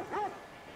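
A dog wearing a yellow tag in The Last of Us Part II lets out one short, soft yip, brief and somewhat distant.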